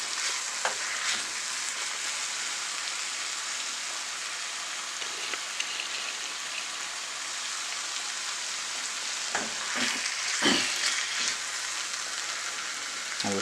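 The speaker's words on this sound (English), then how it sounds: "we're cooking on medium heat in the cast iron today" Chicken frying in a cast iron pan over medium heat gives a steady close hiss and sizzle throughout, with occasional soft stirring knocks and scrapes, and no talking.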